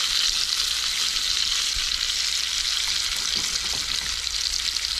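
Steak frying in a pan at a campsite, a loud, continuous sizzle with faint stirring underneath, steady and close, with no voices.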